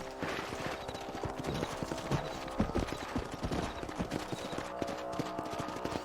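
Horse hooves clip-clopping at a steady trot in the video game Red Dead Redemption, a continuous rhythmic clatter over a dense ambient game soundscape, with no speech.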